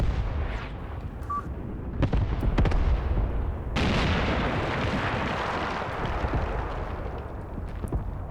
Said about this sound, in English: They're shooting artillery at me, and wow, this one... that was a nasty hit.